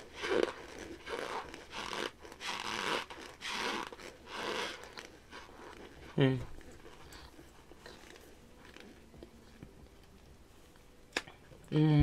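Crunchy Argo and Good and Gather chunks are bitten, giving a sharp crunch midway and another at the end, after a stretch of nearby talking and rustling.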